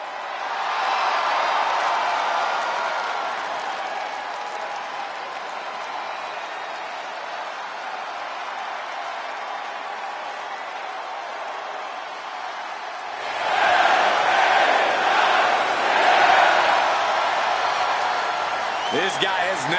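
A virtual arena crowd in WWE 2K26 roars for LA Knight with a broad, steady wash of cheering that swells louder near the end, while a commentator talks over it.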